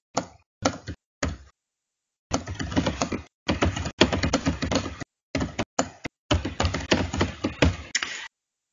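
Typing a question on a computer keyboard during a classroom software setup, heard as close, rapid bursts of clattering keystrokes separated by short pauses.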